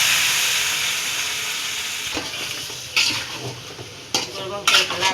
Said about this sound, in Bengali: এই তেলটা গরম হয়েছে, গরুর মাংস ছেড়ে দিলাম।